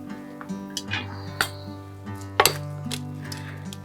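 A metal kadai is set down on a home stove, giving a few scattered clinks and clanks of cookware, including one sharper knock, over a steady low background hum.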